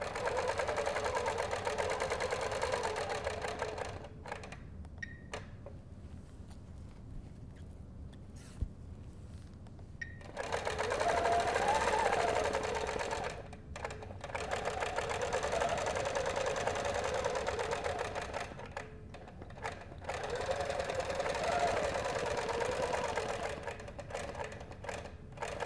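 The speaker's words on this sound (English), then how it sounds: "And I'm going to continue to stitch." A sewing machine stitching with a hopping foot, fast buzzing bursts of several seconds each, separated by short quiet pauses, close and steady.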